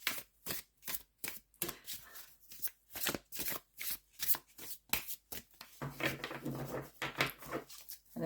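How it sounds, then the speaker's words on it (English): A deck of tarot cards is riffled and shuffled by hand in rapid, regular bursts of crisp flapping clatter, close and clear, with a brief soft murmur partway through. "So like maybe after the shuffle, I'll cut the deck if I don't get any little cards to spit out."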